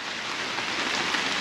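Steady, dense rainfall hisses continuously outdoors during a rear-window rust repair on a Mercury Cougar, a constant even patter with no talking.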